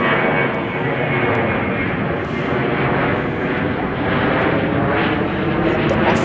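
An American Airlines airliner departs Chicago O'Hare airport, its jet roar loud and steady throughout with broadband rumble, continuous and close.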